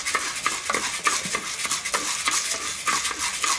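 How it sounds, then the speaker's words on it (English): Coffee beans stirred in a roasting pan over heat during traditional coffee production in Arusha, Tanzania, giving a steady close scraping and rattling with faint sizzle throughout and no talk. "I need to be quick enough to make sure all the beans get roasted at the same time"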